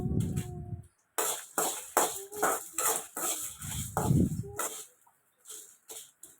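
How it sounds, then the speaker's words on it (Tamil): Whole spices including cloves and coriander seeds are dry-roasted in a wok, giving loud, choppy bursts of rattling and scraping. A short gap comes near the start, and the sound thins out toward the end. "அடுத்து நம்ம வாணலியில் இந்த எல்லா பொருட்களையும் போட்டு நல்லா வறுத்துக்கலாம்"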